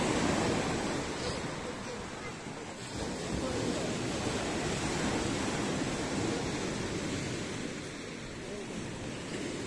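Storm waves break on the sea at Partenit city beach in October, a steady roaring surf with gusty wind buffeting the microphone throughout.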